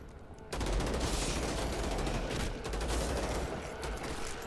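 Rapid assault rifle fire in the action game Vladik Brutal, a dense continuous burst of shots that starts abruptly after a brief pause and keeps up loud and close to the end.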